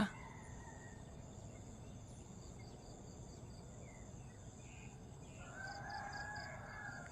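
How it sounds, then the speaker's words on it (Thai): A rooster crows faintly in the distance on a quiet morning in a mango orchard, over a steady bed of chirping crickets and insects. "ไก่ขันได้มาทีนะคะ"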